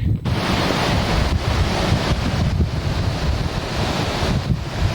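A short river draining mountain lakes below Chilkoot Pass in Alaska, rushing as a loud, steady broadband roar mixed with gusty wind buffeting the microphone.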